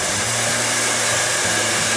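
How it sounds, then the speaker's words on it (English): A blow dryer fitted with a concentrator nozzle, used to apply a printed skin, gives a steady loud whooshing roar close up that runs unbroken and alone for the whole stretch. "Now the key to this, blow dryer."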